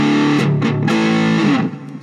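Electric guitar runs through a Vox StompLab IIG high-gain amp model set mid-heavy, giving thick distorted sustained chords with a few choppy strums, then fading slightly at the end.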